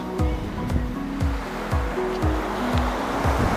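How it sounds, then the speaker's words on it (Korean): Sea waves breaking on the shore at Baekdo beach on the East Sea, with white and red lighthouses nearby. Steady surf wash rolls on continuously with a regular surging rhythm, close and fairly loud, with no voices. "아 파도 소리 죽인다"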